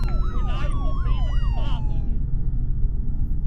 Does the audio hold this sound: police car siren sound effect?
yes